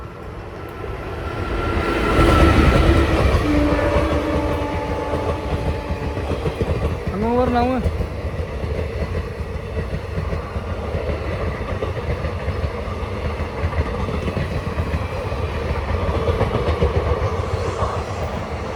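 A train rolls by with a continuous heavy roar and rattling wheels, while people talk over the noise.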